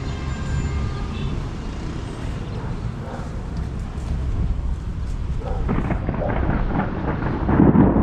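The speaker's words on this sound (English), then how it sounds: "here comes the rain" Heavy rain and low rolling thunder during a storm outside an apartment balcony in Oaxaca, a continuous loud wash of rain with rumbling swells building toward the end, no clear talking.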